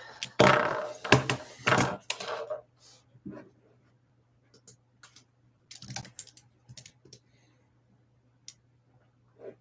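Clattering keys and handling noises on a computer keyboard at a desk, a busy burst of clicks and knocks at first, then scattered sparse taps over a low steady hum.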